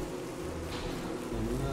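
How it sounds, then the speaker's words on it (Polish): A bee buzzes in the video game Don't Starve Shipwrecked with a steady, thin drone that holds for under two seconds, quiet and unbroken. "O, jest pszczoła, łap ją!"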